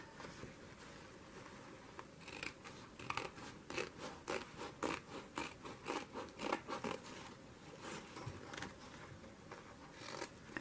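Scissors snipping through a paper road cutout for a craft book, a long run of crisp repeated cuts with steady rhythm over a low background hum, close and moderately loud.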